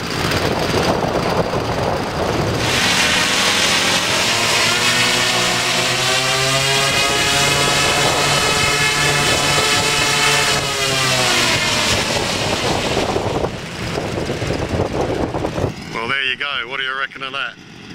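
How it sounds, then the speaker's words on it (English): A giant scale Super Constellation model airplane runs all four engines at full power, a loud sustained propeller drone with shifting harmonic tones that swells and then cuts back near the end. "Four engines, full song."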